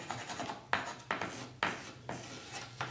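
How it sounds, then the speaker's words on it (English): Chalk scraping across the wooden surface of a Mya-Moe guitar under construction, in a series of four or five distinct rasping strokes, close and fairly quiet with brief pauses between them. "then I'm gonna mark with some chalk so that I can see when I've"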